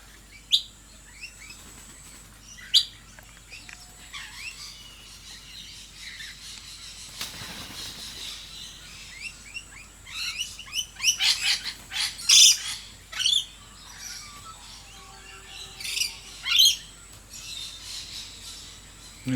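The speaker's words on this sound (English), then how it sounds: "This one here is a blue-faced honeyeater." A blue-faced honeyeater gives short, bright calls in a quiet outdoor setting, with other scattered chirps and tweets; the calls come in brief clusters, louder toward the middle and later part, over a soft ambient background.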